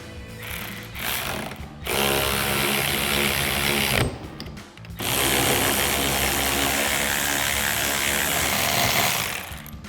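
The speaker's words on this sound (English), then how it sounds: "now you can tighten them down using a 17mm socket." Nylock nuts being driven down onto studs with a 17mm socket on a power tool during a leveling kit install on a 2019-2023 Chevrolet Silverado 1500: loud, dense ratcheting mechanical whirring in two long bursts separated by a short pause.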